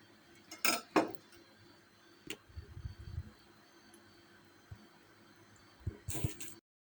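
Scattered knife clicks and taps against a board and dishware while chopping soft pears, with a sharp clink near the start and a brief clatter at the end.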